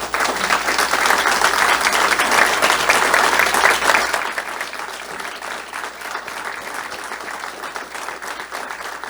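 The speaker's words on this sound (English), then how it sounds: "let's give them a round of applause" An audience applauds a retiring fire chief and secretary at a city address, with sustained, dense clapping that is loud for about four seconds and then thins to a lighter, steady patter.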